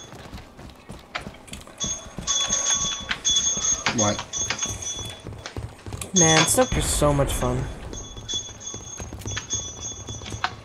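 A bell rings repeatedly in a multiplayer video game match, bright metallic tones recurring among clicks, hoofbeat-like clatter and gameplay noise, while someone talks over it.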